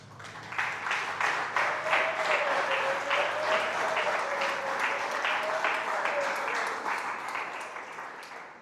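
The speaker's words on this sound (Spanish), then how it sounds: "¿Qué tal un aplauso para Laurita?" Sustained applause from a church congregation, steady clapping filling the room for several seconds with a faint tone or voice running beneath it.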